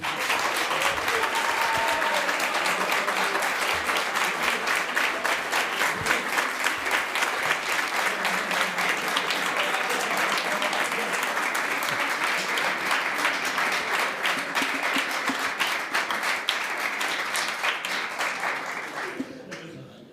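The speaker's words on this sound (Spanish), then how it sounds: "20 segundos de aplauso." A large crowd applauds loudly and continuously, a dense steady clatter of clapping that holds for the whole stretch before trailing off at the end.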